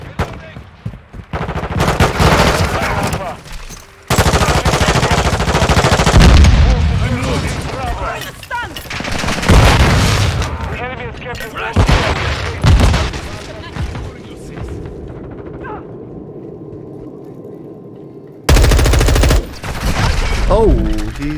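Assault rifle fire in Modern Warfare 2 comes in loud, rapid automatic bursts and long strings, with heavier booms and short lulls between. Voices talk over part of the shooting.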